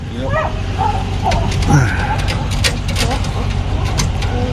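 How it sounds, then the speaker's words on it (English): A dog barks and whimpers in short yips, mixed with men arguing nearby during a roadside police stop, with traffic noise behind. "That dog is fine."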